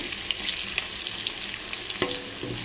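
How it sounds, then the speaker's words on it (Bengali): Potatoes frying in oil in a wok, seasoned with salt and turmeric, give a continuous close sizzle with a sharp scrape of stirring near the end and no voices. "ভালো করে আলুগুলো লাল লালগুলোতে ভেজে নেব"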